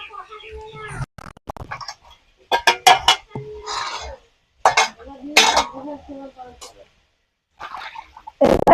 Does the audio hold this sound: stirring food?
yes